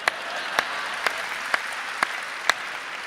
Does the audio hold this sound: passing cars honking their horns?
no